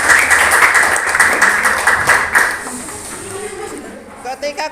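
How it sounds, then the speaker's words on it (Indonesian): A classroom of seventh-grade students claps after a group presentation on waste processing, a loud, dense burst of applause that fades out midway, followed by quieter room sounds and brief voices near the end. "Tepuk tangan."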